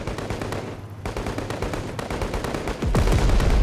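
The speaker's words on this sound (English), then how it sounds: "We got rebels coming out of the buildings, the alleyways, attacking the Russians with various small arms." Rapid small arms gunfire crackles through a video game battle as rebels ambush a Russian troop transport convoy, dense overlapping shots and bursts near and far, growing louder with heavy booming fire toward the end.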